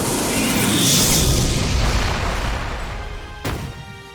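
In the video game PSO2, a monster breathes fire as a loud, sustained roaring whoosh that swells, then fades, broken by a sharp burst late on.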